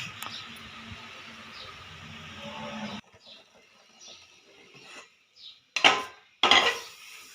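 A metal strainer scoops scum from a pot of date-palm jaggery syrup made for rosogolla. A low, steady bubbling gives way to quiet, then a few sharp metallic scrapes and clinks near the end.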